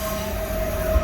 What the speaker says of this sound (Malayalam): 6:51-നാണ് നമുക്ക് പോകാനുള്ള ട്രെയിൻ വന്നു.